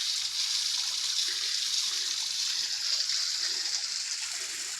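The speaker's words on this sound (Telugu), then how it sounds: "వాటర్ యొక్క దార పడుతున్నది." A thin stream of water falls between trees from a height, heard as a steady, fairly faint hiss of splashing that stays even throughout with no other sounds.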